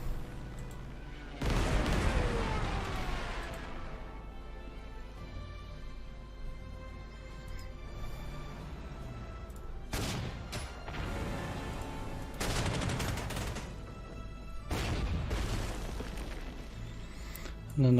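Bombing run in the Panzer Corps 2 strategy game during a Kharkov 1942 mission: several deep, booming explosions with crashing, rumbling tails, spaced a few seconds apart, a narrating voice talking over them at times.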